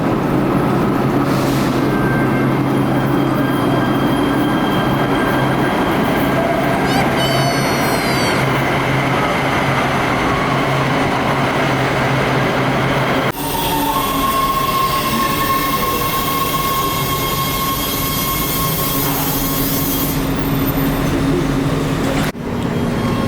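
An LA Metro train arrives at a station platform with a loud, continuous rumble and squealing wheels, then a sustained electronic tone sounds as it comes to a stop; no one speaks.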